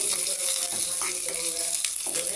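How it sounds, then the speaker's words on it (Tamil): Onions sautéing in oil for a palak spinach tempering, a steady close sizzle and crackle with faint stirring scrapes. "இந்த எண்ணெயில் வெங்காயம் நல்லா வதங்கி நல்ல வாசனை வரும்போது"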